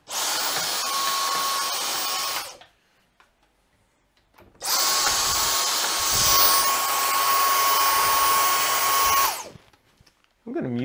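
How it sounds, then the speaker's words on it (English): A vacuum cleaner runs in a room where a PC is being built: two loud, steady bursts of whirring, hissing airflow, the first about two seconds, the second about five, with a quiet gap between. "I'm back with a vacuum."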